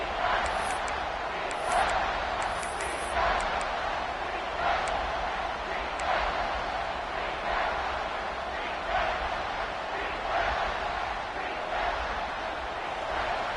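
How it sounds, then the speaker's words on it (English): A big crowd at an American football game roars continuously as the defense holds near the goal line, a dense, loud wall of cheering with swelling shouts and no clear break. "this big crowd doing everything possible to inspire this defense down here near the goal line"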